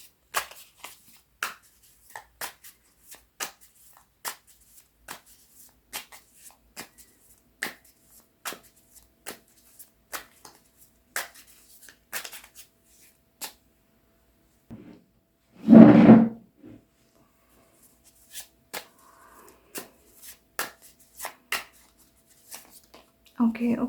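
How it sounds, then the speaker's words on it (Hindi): Tarot cards being shuffled by hand in a series of quick, light riffling clicks, then a louder dense burst of shuffling midway, with a faint voice later. "So let me shuffle more cards."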